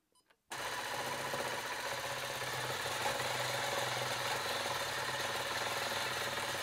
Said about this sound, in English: I'm just doing my best to basically stitch right along the ditch.